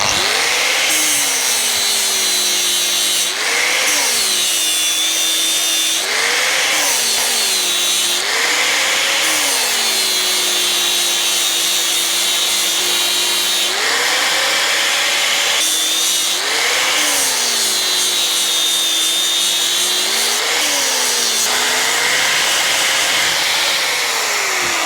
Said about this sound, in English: with the super special milling machine